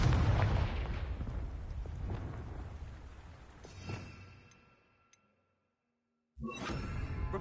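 A Confringo blasting spell goes off in Hogwarts Legacy as a loud, booming blast that rolls on for several seconds and fades into near silence, before a second burst of game sound starts up.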